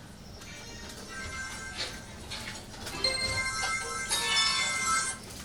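A mobile phone rings inside a home, a bright repeating electronic melody with steady tonal notes, fairly close and continuous, swelling slightly louder toward the end.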